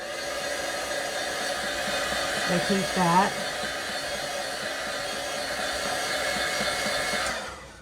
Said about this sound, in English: Let me shoot this one with the heating gun real quick. So it's going to be a little noisy.